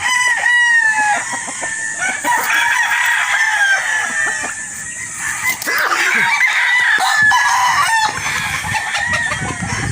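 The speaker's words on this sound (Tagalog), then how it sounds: "Ito po yung hawak natin kanina na broad stag. Uh, Boston Roundhead." Boston Roundhead chickens, including a broad stag, cluck busily and crow nearby, loud and continuous, with overlapping calls throughout.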